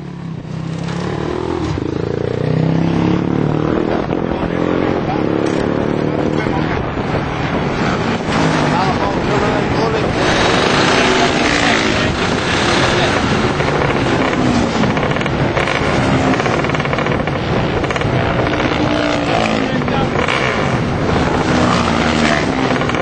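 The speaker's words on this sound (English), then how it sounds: "As soon as the bike fired up on the rollers, I knew it wasn't right." Single-cylinder Supermono racing motorcycle firing up on a roller starter in the paddock at Assen, throttle not responding properly: a loud, continuous engine roar close by, with wind buffeting on the microphone.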